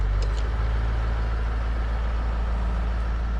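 A Range Rover L405 engine held at raised revs by a throttle positioning device during intake carbon removal, giving a steady, loud low drone with a constant pitch throughout.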